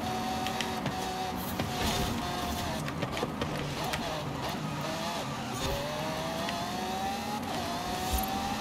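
Race car engine in Forza Horizon 5 drones and whines steadily while driving, with gear-like pitch sweeps rising and falling beneath constant game noise.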